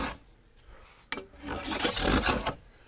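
Hand tool rasping along a wooden stock blank, a steady scraping stroke that builds in loudness toward the end, close and alone.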